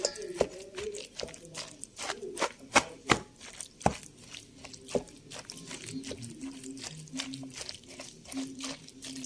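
Eggplant salad with black pepper and shrimp paste is stirred and mixed in a bowl, producing a string of close, irregular knocks and taps of the utensil, some sharp, over a quiet background.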